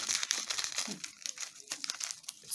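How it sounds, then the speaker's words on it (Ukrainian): Soft crinkling and rustling of a small packet of vanilla sugar being torn open and handled, close and quiet. "Тепер додаю один пакетик ванільного цукру."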